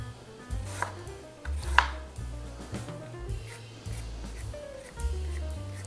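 A knife cuts carrots on a cutting board in soft, uneven chops, with a few sharper knocks against the board over a low background hum, close by and without talking.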